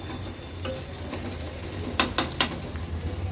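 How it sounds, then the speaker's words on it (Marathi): Onions cooking in a pan for an Agri Koli fish meal get stirred with a utensil, quick scraping strokes and light metal clinks over a soft sizzle, close by and without talk. "कांदा थोडासा मिक्स करून घेते"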